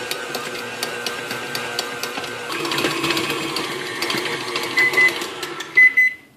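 A stand mixer with a dough hook kneads soft, sticky yeast roll dough, giving a steady motor whir with faint regular ticking and thumps, then winding down to a stop.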